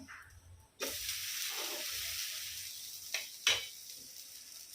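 Dosa batter made with mudakathan greens hisses and sizzles on a hot pan, a steady broadband frying sound that jumps up suddenly and holds, with a couple of brief sharper bursts near the end and no talking.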